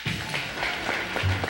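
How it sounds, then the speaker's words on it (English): Applause for Dr. Halo Anesi at a live Polynesian television event, a steady patter of clapping from a crowd at moderate distance, with faint talk underneath. "How about a nice round of applause, ladies and gentlemen, for Dr. Halo Anesi"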